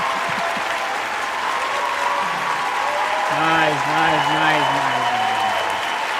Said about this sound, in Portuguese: Agora mais do que nunca, merece aí os nossos aplausos